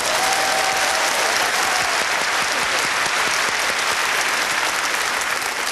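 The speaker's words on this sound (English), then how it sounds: "Pauses for audience applause." Steady, dense audience applause from a live comedy show crowd fills the whole stretch at an even, loud level, with no voices over it.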